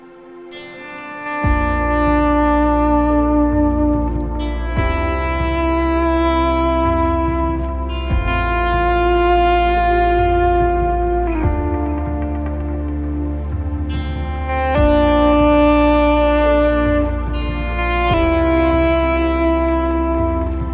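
Ambient electric guitar played through Line 6 Helix effects: sustained chord swells washed in reverb and echo, changing every few seconds over a deep droning low end, loud and continuous with no talking.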